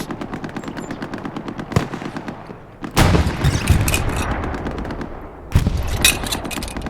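Hell Let Loose battlefield gunfire: a steady rattle of rapid machine-gun shots throughout, broken by a couple of heavy booming blasts with long rumbling tails, loud and close.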